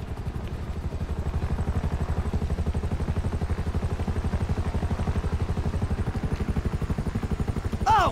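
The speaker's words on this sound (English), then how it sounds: "Great! Another chopper!" Helicopter in the video game GTA V, its rotor producing a rapid, steady chopping pulse throughout, loud and close, with game ambience underneath.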